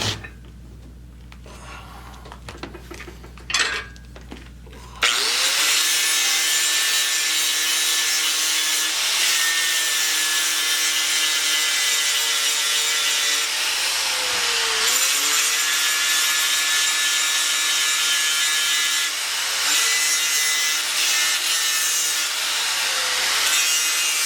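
A file rasps across a forged hatchet head in long, steady strokes, putting a bevel on one side. The grinding scrape is loud and close, with slight dips where each stroke turns back.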